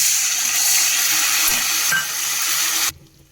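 Tamarind juice hits frying onions in hot oil, giving a steady broadband sizzle and hiss that holds for a few seconds before cutting off abruptly.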